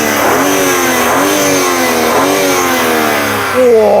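A BMW twin-turbo straight-six engine revs repeatedly, its pitch rising and falling in quick bursts, loud and close, ending with a sharper climb.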